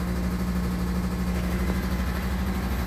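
A washing machine running steadily, a continuous low motor hum with a strong tonal drone and constant vibration, moderately loud and unbroken throughout with no talk.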